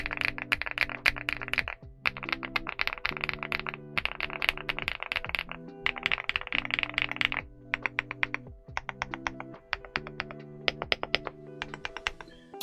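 A Weikav Stars80 v2 mechanical keyboard in MMD Ink Orange is typed on in steady bursts of close, deep, clacky keystrokes separated by short pauses, with no voices.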